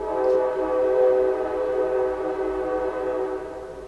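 A train rolls past with its horn sounding in a long, loud sustained chord that swells and fades, with rumbling wheels underneath and no talking.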